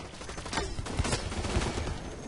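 Pistol fire in the shooter game Blacklight: Retribution, a run of sharp gunshots cracking through a dense, continuous layer of in-game battle noise, with no voices over it.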